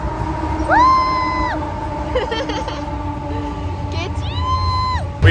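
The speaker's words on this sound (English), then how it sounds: "We started driving and the train is just right next to us." A huge train rolls past right beside a moving car on a road trip in British Columbia, Canada, with a long, steady rumble and a loud horn sounding twice. The sound is close and fairly loud, with voices heard over it.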